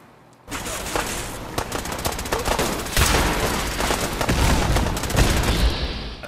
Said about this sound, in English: Yes, I shot one of the settlers.